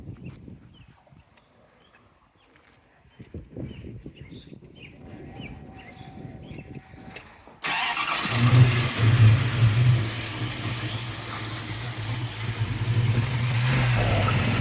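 Quiet clattering and a faint rumble give way to a 1970 Plymouth Cuda 340 engine with a new mini starter suddenly catching and running, a heavy throaty roar that holds steady to the end.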